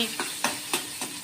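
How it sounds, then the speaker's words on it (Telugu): Spices tempering in hot oil for a karonda (vakkaya) dal, crackling in four evenly spaced sharp bursts, close and moderately loud, with a low sizzle between them and no talk. "ఇప్పుడు ఈ పోపు అంతా బాగా వేయక ఆడాలి పోపు ఈ చిటపట్లు ఆడాక"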